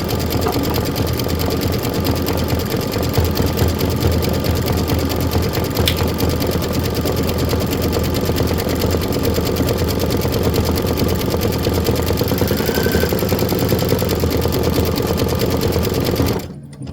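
Embroidery sewing machine stitching a pillow design, running close and loud with a fast, steady needle chatter for about sixteen seconds before it abruptly stops.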